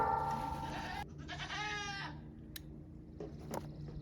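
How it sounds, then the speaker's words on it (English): Goats on a homestead bleat loudly and close in a couple of wavering calls, followed by fainter farmyard sounds with a low background hum. "Goats are mad."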